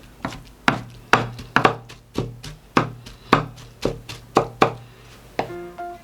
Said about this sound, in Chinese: 在剁肉时候